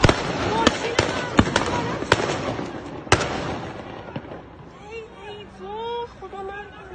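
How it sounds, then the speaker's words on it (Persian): Six or seven sharp gunshots crack out at irregular intervals at a street protest, then fade as distant voices shout and call out. "شلیک میکنن نگاه کن"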